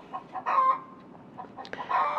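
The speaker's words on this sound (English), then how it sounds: "Excuse my chicken. She's doing her job." A hen clucks close by during rose cutting propagation, giving a few short, uneven bursts of clucking with quiet gaps between them.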